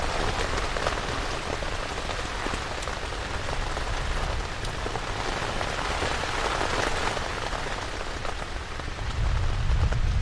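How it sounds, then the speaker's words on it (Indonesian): Heavy rain drums steadily on a camping tent, a thick, unbroken patter close overhead that swells slightly louder toward the end, with no voices. "Nah ya, Hujan."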